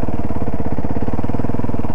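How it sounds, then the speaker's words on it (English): A motorcycle engine idles steadily and loudly up close while the rider touches the rear brake, a continuous rumbling beat with no talking throughout. "This is what it sounds like when I'm basically kind of idling and I'm touching the rear brake."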